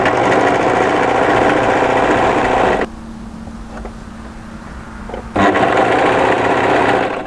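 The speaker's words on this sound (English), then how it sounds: "So I'm going to overlock this starting from a side seam" An overlocker runs loud and close while sewing the side seam of a maxi wrap dress. Its fast motor whirs for a few seconds, stops to a quiet hum, then starts up again at full speed.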